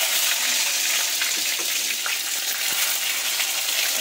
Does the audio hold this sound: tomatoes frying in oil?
yes